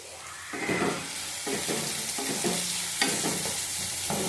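Onion and green chili fry in a pan with a constant sizzle, broken by repeated scraping strokes of a spatula at a steady pace, close by and with no talk.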